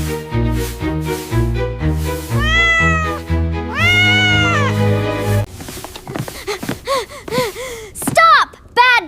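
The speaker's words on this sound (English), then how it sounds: "Loud, angry meow!" A cartoon cat lets out long, loud, angry meows and yowls, rising and falling in drawn-out strained cries over a background of music in an animated baking scene.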